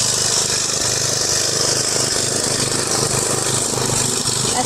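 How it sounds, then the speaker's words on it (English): A lawn mower engine runs steadily in a front yard on a homestead, a continuous mid-pitched drone that stays loud and even throughout with no pauses. "my husband's in the front yard mowing"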